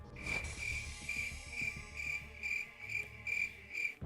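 Crickets chirp in a steady, even pulse for about four seconds, a comic sound effect played right after a joke falls flat; no voices, just the rhythmic trilling over low background.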